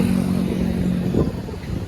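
A motorcycle engine runs close by with a steady, throbbing low drone and a slight rise in revs before it settles.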